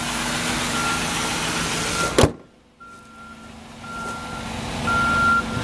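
A 1999 Ford Taurus LX backs up, its reversing beeps sounding loud and steady, then cutting off abruptly before a faint electronic tone and low engine hum return.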